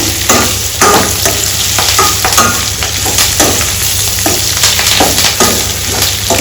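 Curry leaves frying in a pan, a loud continuous sizzle and crackle with rhythmic stirring scrapes of a spoon against the pan, close and constant throughout.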